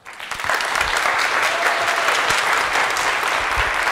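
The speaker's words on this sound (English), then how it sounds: "I would like to give a warm applause for Kasper Lund." A conference audience at a developer event applauds to welcome a speaker, dense and loud clapping rising quickly after a brief start and holding steady throughout.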